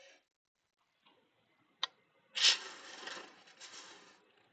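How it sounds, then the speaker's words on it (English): A skew chisel making a peel cut on a wood lathe: a faint tick, a sharp click, then a brief rising shaving rasp that trails off, close and fairly quiet. "Peel and cut with a skew is very fast,"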